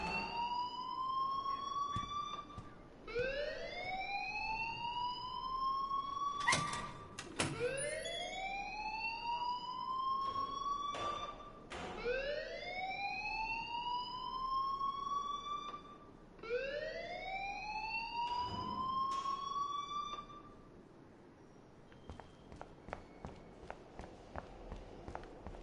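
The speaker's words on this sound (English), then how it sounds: "please turn off that alarm" An alarm wails in the video game Life is Strange, a loud rising whoop that repeats every few seconds, with sharp clicks and steps mixed in before it drops out near the end.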